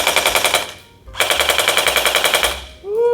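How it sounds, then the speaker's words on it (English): A LeHui MP9 SMG folding-stock gel blaster fires two loud, close, rapid full-auto bursts of evenly spaced pops, separated by a short pause, with a brief voice at the very end. "Ooh, that's got a nice little pop. Pop, pop. Alright, so that is the LeHui MP9 SMG Gel Blaster."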